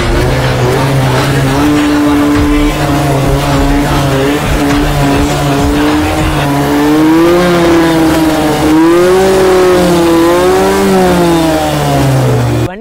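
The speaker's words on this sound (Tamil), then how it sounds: "ரெண்டு வண்டியுமே த்ராட்டில் பண்ணியிருப்போம்." Two motorbikes, a small kutty TTF bike and a larger one, revving their throttles up close, loud droning engines that rise and fall in pitch as the revs swell and ease over the length of the clip.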